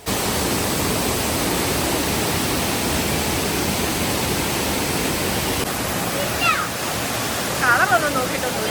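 The Aruvikuzhi waterfall in Kottayam, running muddy in light rain, sends out a dense, constant roar of rushing water from close by, with a few faint high chirps near the end.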